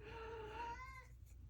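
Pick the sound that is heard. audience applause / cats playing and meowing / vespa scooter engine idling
cats playing and meowing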